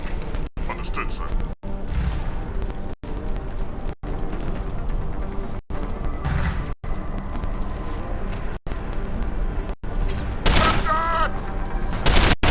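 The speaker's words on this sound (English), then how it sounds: "Shots!" Rapid bursts of gunfire in the video game Deus Ex: Human Revolution, loud and continuous with mechanical clatter and brief pauses, ending in sharper electronic effects, with no talking.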